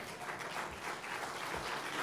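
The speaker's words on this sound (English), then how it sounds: "When he hears that clapping, he comes on stage" Applause from an audience at an awards ceremony, a steady, fairly faint wash of many hands clapping with no voices.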